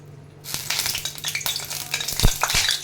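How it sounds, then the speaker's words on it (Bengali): A little water splashed into hot oil for a Bengali fish curry sizzles and crackles loudly after a brief quiet start, with dense popping and spitting that lasts to the end, no voices. "এই যে তেলে যে চটপট চটপট করে ফেনাটা হলো"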